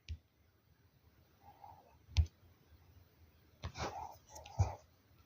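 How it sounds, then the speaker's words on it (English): A handful of soft, close mouse clicks, single and in quick pairs, spaced unevenly over a near-silent background while working in the Poly.AI app, with faint breathing or rustle between them. "So click save."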